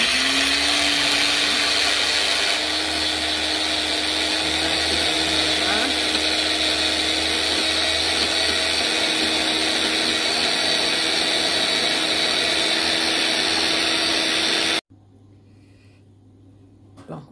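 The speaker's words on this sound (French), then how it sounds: "je vais hacher mon aloe vera que j'ai mis tout à l'heure" A blender chops aloe vera gel with a loud, continuous motor whine that stays steady for about fifteen seconds, then cuts off into quiet room noise.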